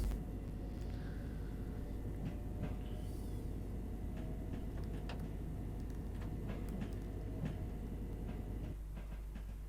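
A commuter train runs through the London Commuter route in Train Sim World 2, giving a steady loud low rumble with occasional clacks and faint clicks, and no voices throughout.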